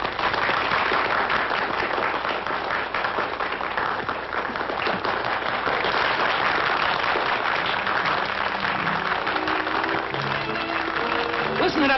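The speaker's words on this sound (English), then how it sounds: "Listen to that applause." Large stadium crowd applauding continuously, a dense wash of clapping and cheering with voices mixed in, loud and sustained throughout.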